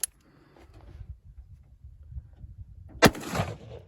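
A single loud, close gunshot from a .45 Colt lever-action Marlin 1894 Cowboy rifle with a 24-inch barrel, firing a 300-grain lead flat-point bullet over 23 grains of H110, comes after a few seconds of quiet outdoor rumble.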